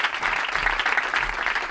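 A studio audience at a comedy talk show bursts into dense, steady applause, loud and close, sustained without a break for under two seconds.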